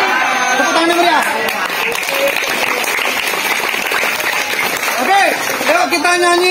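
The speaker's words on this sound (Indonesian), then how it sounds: "Tepuk tangan yang meriah." A crowd of junior high scouts claps in loud, sustained applause, the dense patter running throughout with excited voices and shouts layered on top.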